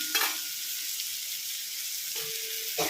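Prawns sauté with banana flower in a pan, giving a steady close sizzle, with short scraping stir strokes at the start and again near the end.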